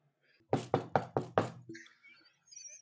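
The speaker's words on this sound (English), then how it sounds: "that was me knocking on actual wood" Five quick, crisp knocks on a wooden surface in an even rhythm, close and distinct against near silence, followed by faint sounds.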